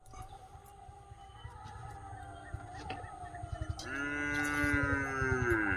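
Cattle lowing in a rural field under a darkening pre-storm sky, a few drawn-out moos rising near the end over steady low background noise, with no talk.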